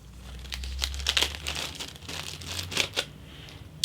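A plastic Ziploc bag holding clear model parts crinkles up close, a run of sharp, irregular rustles and crackles in a quiet room.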